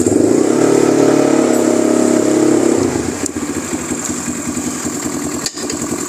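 A 200cc automatic ATV engine runs close and loud, a low throbbing idle that shifts to a lighter, uneven putter as the quad reverses, with occasional small knocks and no speech.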